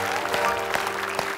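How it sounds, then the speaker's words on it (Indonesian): Studio audience on an Indonesian TV game show claps to welcome the first guests, a steady round of applause with a few sharper individual claps standing out, over a faint sustained musical tone. "Boleh tepuk tangan dengan pelapor kita pertama."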